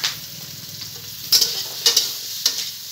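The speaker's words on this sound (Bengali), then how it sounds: "আলুটা ভাজা হতে থাক" Potatoes frying in a pan for a pointed gourd dish, a steady soft sizzle broken by a few sharp, close scrapes or stirs, with no voices.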